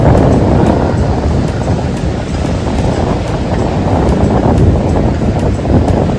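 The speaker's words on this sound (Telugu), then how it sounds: "మొత్తం కూడా ఇది సముద్రం." Sea waves at Marine Drive, Mumbai, heard as a constant loud roar of surf that is heavily mixed with wind buffeting the microphone, with no breaks and no talk.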